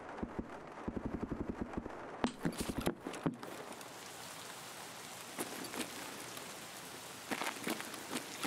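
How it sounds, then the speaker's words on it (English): Steady rain in Escape from Tarkov patters in the background while rhythmic hoof clops sound near the start, followed by scattered sharper taps over the continuous hiss. "Rain makes it hard to hear, unfortunately."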